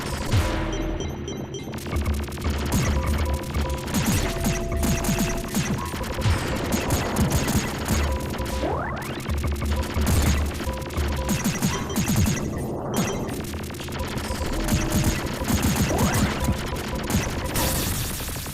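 Video game weapons, including a flamethrower and missiles, fire in a dense, chaotic barrage of bursts, crashes and explosions, with rapid repeated shots and sweeping effects, loud and continuous with no talking.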